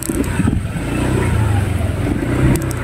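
A kulong-kulong motorcycle with a passenger sidecar rides along a Philippine road, its mid-pitched engine droning loud and close with small throttle rises throughout.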